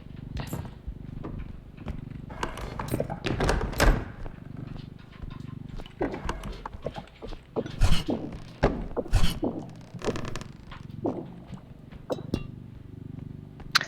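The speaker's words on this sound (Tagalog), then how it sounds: "nandito lang kasi yung litter box ng pusa. Ah, Tapos hinuhukay nila." A cat digs in a litter box: gritty scratching and scraping of litter comes in irregular bursts, close by and fairly quiet, with occasional light clinks.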